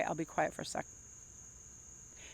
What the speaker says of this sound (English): That buzzing in the background is just a whole bunch of crickets